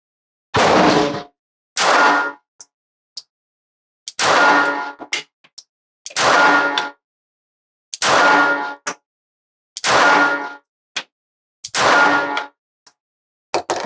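A Glock G42 pistol firing Fiocchi ammunition at an 8-inch steel target outdoors: about seven evenly spaced loud shots, each followed by a faint metallic ping from the steel.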